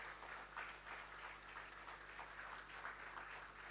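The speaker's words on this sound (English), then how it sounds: "Governor will now felicitate Thiru Alvas amidst your big round of applause." Audience applause at a government ceremony honouring tribal community members, with fairly faint rhythmic clapping heard at a distance over a steady low hum.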